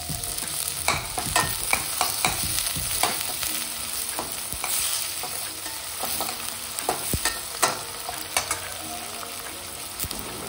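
Chopped tomato is stirred into softened onions in a hot pan for a Tamil egg dish, a continuous frying sizzle with repeated scraping clicks of a spoon against the pan, close and unaccompanied by talk.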